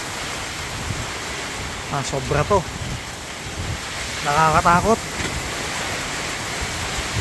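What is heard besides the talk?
strong typhoon wind and rain on a farm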